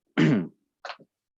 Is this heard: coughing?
yes